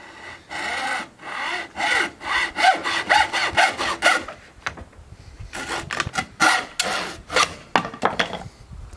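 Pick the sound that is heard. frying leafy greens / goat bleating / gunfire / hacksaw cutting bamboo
hacksaw cutting bamboo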